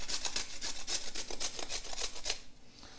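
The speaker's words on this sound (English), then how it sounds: "And I'm just going to grate a little in, just to get that sweet." Organic market carrot rasped against a grater in a steady run of about a dozen quick, bright scraping strokes, close and fairly loud, stopping just before the end.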